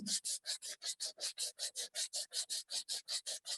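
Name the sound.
hand sanding wood with the grain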